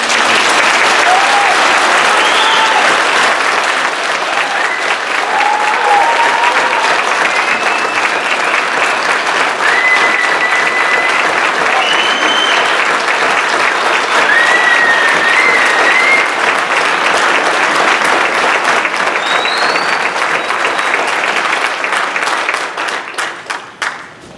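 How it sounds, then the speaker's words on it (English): Audience applause at a high school Junior ROTC awards ceremony, loud sustained clapping from a large indoor crowd lasting over twenty seconds with a few whistles and cheers, tapering off at the end. "help me, give Sergeant Major a round of applause for this"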